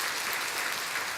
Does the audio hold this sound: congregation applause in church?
yes